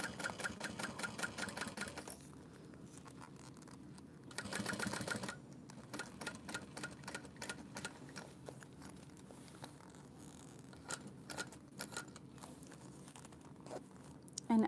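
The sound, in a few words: sewing machine stitching fabric layers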